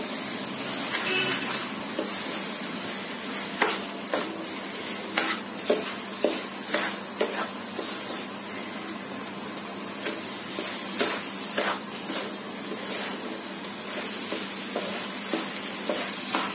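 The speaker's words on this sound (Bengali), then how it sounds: "চালটা ভালো করে কষাই দেব" Rice being stir-fried with spices in a pan for hilsa pulao, a soft continuous sizzle broken by regular scraping and clacking strokes of the spoon, close and moderately quiet.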